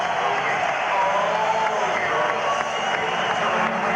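A boxing arena crowd roaring steadily as Jeff Fenech enters for a WBC super bantamweight title fight, a dense continuous wash of noise with a commentator's voice running over it.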